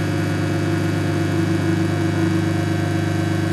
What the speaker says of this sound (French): le signe qui fait beaucoup de bruit, c'est que le ballast doit être à peu près en fin de vie